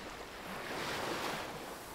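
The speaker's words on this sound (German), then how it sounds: "Wir hören uns das Meeresrauschen an." Ocean waves in the video game Under A New Sun wash in as a steady, broad rushing surf, with a gentle swell in the middle and no voices.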